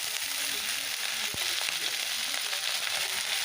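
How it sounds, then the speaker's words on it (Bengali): Onion pieces fry in hot oil in a small wok, a steady close crackling sizzle that fills the clip, with a single sharp tap near the middle. "পেঁয়াজটা এখন ভাজা ভাজা হয়ে যাবে, মানে আধ ভাজা হবে"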